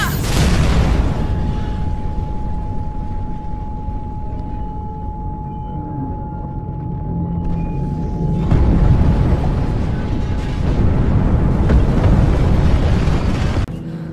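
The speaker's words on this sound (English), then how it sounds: "Big explosion over here!" A long, heavy rumbling boom of an explosion in the video game Mirror's Edge Catalyst fills the space, surging again partway through and fading off, with a faint steady tone over the start.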